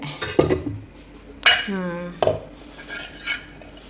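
Dishes and pots being washed in a home kitchen, with several separate clinks and clatters of metal and crockery and a soft ringing tone after one knock, all fairly close.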